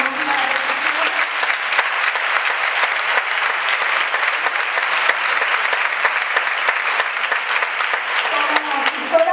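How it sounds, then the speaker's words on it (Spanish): A live audience at a Spanish-language music event breaks into sustained, dense applause that fills the whole stretch evenly, loud and close, with no voices standing out. "Y voy a pedir un aplauso para mi Guillermo, mi hermano, Guillermo."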